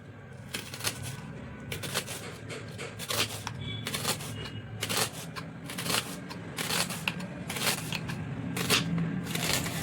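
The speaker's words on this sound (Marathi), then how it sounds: "आता हे कांदे आपण उभे उभे कापून घ्यायचे।" A knife slices peeled onions lengthwise on a cutting board, making repeated sharp chopping taps in a steady irregular rhythm, close and clear against a low background hum.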